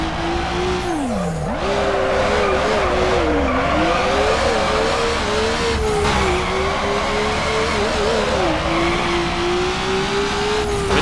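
Mazda RX7 drifting nearly sideways in Need for Speed Underground 2, a loud sustained tire squeal wavering in pitch over a steady revving engine, continuous for the whole stretch.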